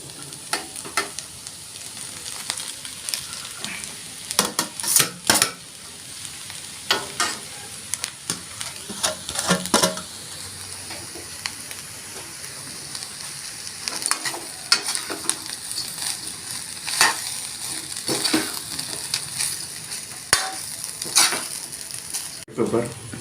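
Chicken fried rice being stir-fried in a hot pan in street style, with a steady sizzle under repeated scraping and clanking strokes of a spatula against the metal, close up and with no talking.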